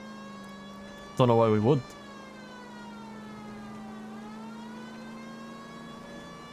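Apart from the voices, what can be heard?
police car siren in video game L.A. Noire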